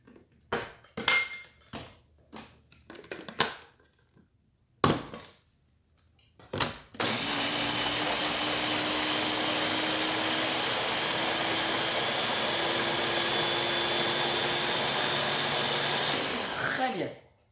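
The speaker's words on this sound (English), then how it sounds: "I'm using the Ninja today because I don't want too much noise and the beans are already cooked." A Ninja blender whirs steadily as it purees cooked beans, a loud continuous motor roar lasting about ten seconds before cutting off, preceded by scattered clunks and handling knocks.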